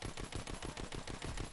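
Rapid automatic gunfire from a low-recoil weapon in a WW2 zombie shooter game, a dense, steady stream of shots with no pauses across the whole span, loud and close.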